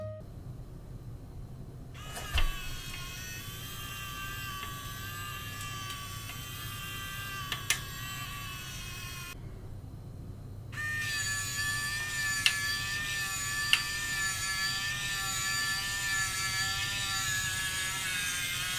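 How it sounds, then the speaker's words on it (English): A steady mechanical whine from a SwitchBot Blind Tilt motor winding a blind, running continuously with a brief pause midway, then resuming slightly higher and brighter; close and moderately loud. "there's no such thing as silent mode when you come to a motor trying to wind a blind"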